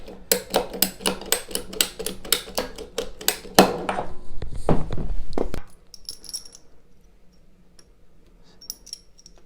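Sharp shears snip through a damaged garden hose with a rapid run of crisp clicking cuts, then a louder crunching squeeze as the blades close, followed by quieter handling sounds and faint ticks.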